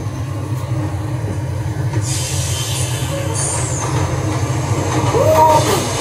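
Train driving simulator at a railway museum, with a steady low rumble of rolling rail noise, brief wheel-squeal tones and clicks; a voice is faintly present near the end.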